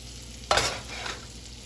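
Butter is stirred into sizzling olive oil in a pan for cacio e pepe: a steady close sizzle, then a sudden burst of scraping and hissing as the butter is mixed in, easing back to a constant fry.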